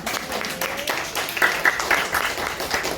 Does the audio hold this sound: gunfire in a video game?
no